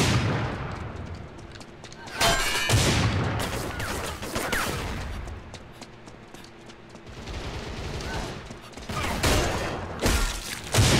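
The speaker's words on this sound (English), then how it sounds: "Let's go back to the sniper rifle." Sniper rifle gunfire in the shooter game Line of Sight, several loud sharp cracks at irregular intervals among other game noise and thuds, fairly close and dense.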